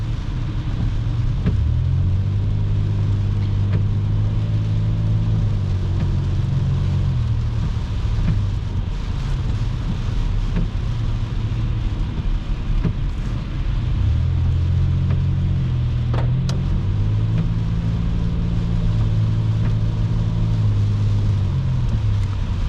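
Heavy highway traffic with semi-trucks, heard from inside a moving car, makes a constant loud road rumble and engine drone, with low tones swelling twice as large vehicles pass, and no talking.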